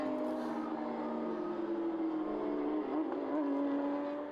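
Race cars, including a Russell Racing Porsche, at the Spa-Francorchamps circuit during a Belcar round, a steady engine drone with a rising and falling whine holding through the stretch, no voices.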